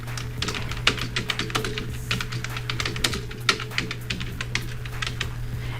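Rapid typing on a computer keyboard, a steady stream of close, crisp key clicks with a few louder strokes, over a low constant hum.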